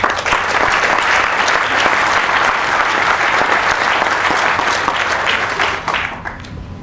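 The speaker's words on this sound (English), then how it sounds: "that deserves a round of applause" A roomful of seminar attendees claps loudly and continuously, a thick wash of hand claps that thins and fades away in the final second.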